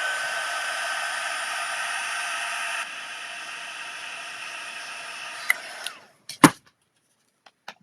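A heat tool blows steadily to melt embossing powder on a card, a loud continuous hiss that drops in level midway, then cuts off, followed by a few sharp handling clicks and knocks.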